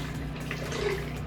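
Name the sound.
pouring water into salad dressing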